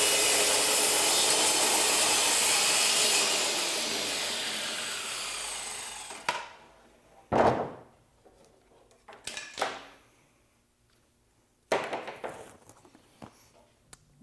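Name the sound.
TrueTrac track saw cutting a solid wood panel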